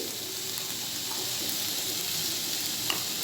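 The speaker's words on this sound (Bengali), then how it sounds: "এবারে নুনটা মিশিয়ে নিচ্ছি।" Salt stirred into snake gourd in a pan after the water has dried off, a steady sizzling hiss with faint soft scraping of the spoon throughout, close and continuous with no voices.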